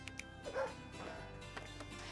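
A cartoon dog in Scribblenauts Unlimited gives a few short yips and whimpers over a soft game music background, with no speech.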